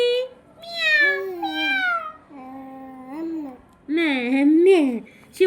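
A young child imitates a cat's meow with drawn-out, wavering meowing sounds, several in a row, close and clear in a quiet home.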